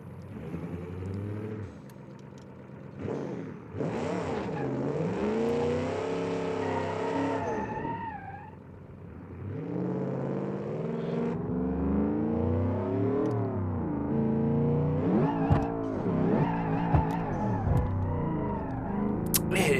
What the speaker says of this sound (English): It's still spinning the tires off.